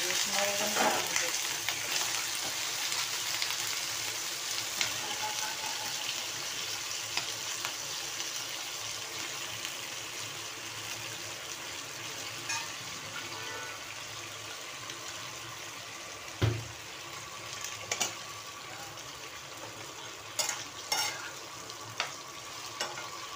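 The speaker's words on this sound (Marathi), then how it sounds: "तेलामध्ये चांगली फ्राय होऊन द्यायची वांगी" Eggplant fries in oil in a pan with a steady, close sizzling hiss throughout, occasional clinks of a utensil against the pan, and faint talk in the background.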